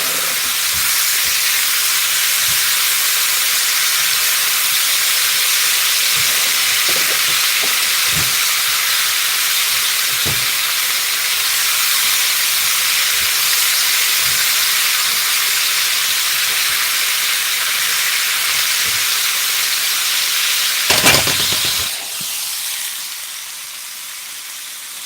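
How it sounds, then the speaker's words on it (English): Onions browning in butter in a pan hiss and sizzle loudly and steadily up close with occasional small pops, then a brief louder burst near the end before the sound drops back. "get a little bit of butter too, you know. Where the onions are nice and brown now."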